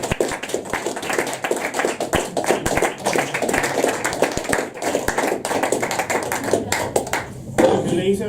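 Audience clapping after a poetry reading at the King & Queen pub, a dense, steady patter of many hands sustained throughout, with some voices mixed in.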